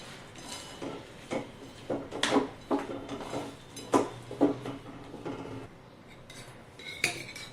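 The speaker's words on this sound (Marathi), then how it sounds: "आता पटकन आपण ह्याच्यामध्ये डाळ्या टाकून घ्यायच्या आहेत आणि हलवून घ्यायचं आहे" Roasted gram stirred into thick chikki sugar syrup, a series of irregular metal spoon scrapes and knocks against a pan, close and fairly quiet, with no talking.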